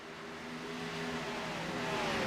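Race car engine in a sim racing game at Richmond, Xfinity series, a steady loud drone with rising pitch as it accelerates, sustained through the whole moment with no talk.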